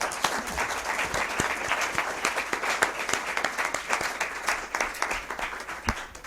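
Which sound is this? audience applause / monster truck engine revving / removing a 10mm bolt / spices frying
audience applause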